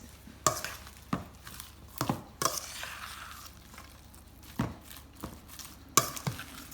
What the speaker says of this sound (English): I'm going to mix this.